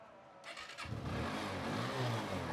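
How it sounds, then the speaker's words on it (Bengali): A used TVS Apache RTR motorcycle engine starts and settles into a steady, fairly loud mid-pitched idle and rev, heard close up and alone, with no talking. "ইঞ্জিনের সাউন্ড দেখলে"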